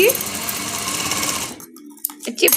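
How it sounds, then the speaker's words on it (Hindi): A sewing machine runs a double line of stitching on sequin fabric, whirring loudly and close for about a second and a half before stopping, followed by brief handling clicks. "तो इस पे हम डबल सिलाई लगाएंगे"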